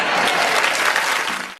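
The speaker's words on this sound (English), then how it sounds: "Big round of applause, yeah." A sitcom studio audience bursts into applause, a dense, loud burst of clapping lasting under two seconds before cutting off abruptly.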